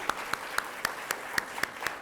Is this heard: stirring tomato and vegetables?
no